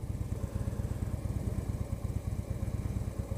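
A Harley-Davidson Switchback motorcycle engine runs while riding, producing a steady low rumbling throb with regular rapid pulses that carry on continuously without a break.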